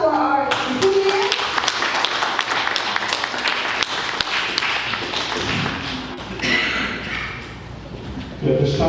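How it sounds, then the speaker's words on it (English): An audience at the Samoa Association San Diego's 2023 scholarship awards ceremony applauds the recipients with loud, dense clapping that carries on for several seconds before thinning out, with a voice cutting in near the end. "One more round of applause for our recipients."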